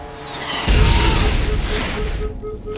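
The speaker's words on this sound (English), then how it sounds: "Oh, he's got a rocket launcher." A rocket launcher blast in the video game Borderlands, a heavy booming explosion that hits suddenly and loud, then rolls on as a dense rumble with a faint ringing tone over it.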